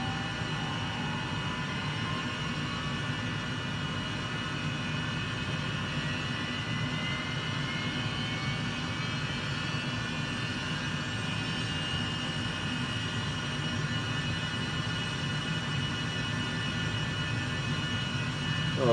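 The number 1 turbine engine of a light aircraft cranks and runs. A steady, loud drone holds throughout, with faint rising whine tones as it spools up.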